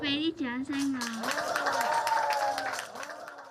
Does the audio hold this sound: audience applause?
yes